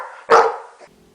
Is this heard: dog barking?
yes